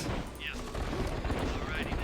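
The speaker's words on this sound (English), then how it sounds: "You can hear there's a lot of gunfire already." Battle gunfire from the real-time strategy game KKND, a dense, continuous crackle of shots with scattered bursts across two seconds, sitting at moderate level under a low rumble.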